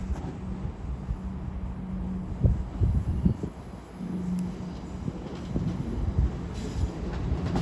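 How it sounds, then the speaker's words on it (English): London Northwestern Railway passenger train running through Crewe station, a steady low rumble with rhythmic wheel clatter and faint squeals, fairly close and continuous throughout. "the 1532 London North Western Railway service from London Street to Liverpool Lime"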